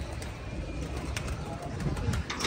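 Pigeons coo softly close by at a pigeon club while the birds are let out, a steady low murmur with faint rustling throughout.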